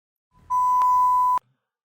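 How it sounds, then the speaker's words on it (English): A single steady censor bleep lasts just under a second, loud and clean, covering a spoken word, with nothing else around it. "I'll bleep that last bit."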